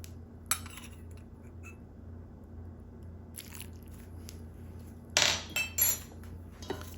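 A spatula stirs corn tortilla dough in a bowl, giving a few short scraping, dull clacking bursts toward the end after a mostly quiet stretch with one brief tap near the start.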